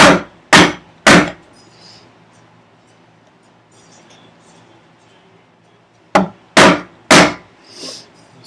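A chisel chops into wood clamped in a workbench vise: two bursts of three sharp, loud, close wooden strikes separated by a quiet pause.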